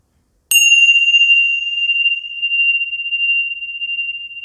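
A single meditation bell is struck once, its bright onset settling into a long, pure sustained ring that slowly fades over several seconds in a quiet room, with no talking.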